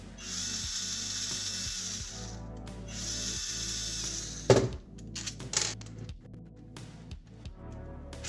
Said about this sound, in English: Let's get these screws out first.